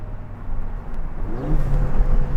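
A Ford Fiesta ST engine fitted with an induction kit revs up with a rising, throaty intake roar, close and loud, with no talking.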